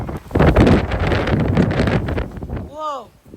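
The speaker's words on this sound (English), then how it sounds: "We might get another gust coming." A strong 50 mph wind gust in Frisco, Texas, roaring and buffeting loudly against the microphone, then easing off as a voice briefly exclaims at the end.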